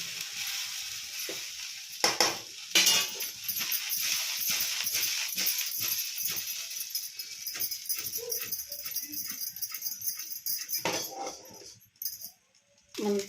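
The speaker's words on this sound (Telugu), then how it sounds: "దీంట్లోనే మనం ఉడికించుకున్న రైస్ అంతా వేసేసుకోవాలి బాగా మిక్స్ చేసుకుంటే సరిపోతుంది" Cooked rice being stirred with masala in a hot pan, a steady sizzling hiss with repeated scraping and clinking strokes of the spoon against the pan throughout, close and fairly loud, fading out briefly near the end.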